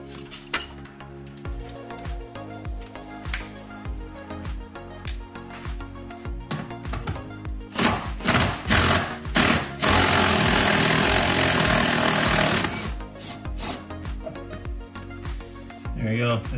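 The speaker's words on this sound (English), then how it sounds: "This one's also feels like it's rusted a bit, so I'm gonna use an impact driver." An impact driver works on rusted back seat bolts in a 2007-2011 Toyota Camry SE, with loud rattling bursts and one sustained hammering run, mixed with clinks of tools.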